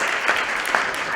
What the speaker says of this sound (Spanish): ¿Quieren aplaudir? Pueden aplaudir.